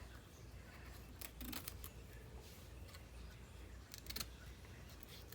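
Scissors snip through a glossy magazine page to cut out a fashion figure for a collage, quiet crisp clicks clustered in a few short bursts against a soft room hiss.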